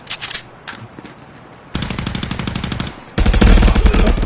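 Rapid automatic gunfire in the Contractors VR shooter on the Nuketown map, starting as scattered shots and swelling into two loud sustained bursts, the last one closest and heaviest.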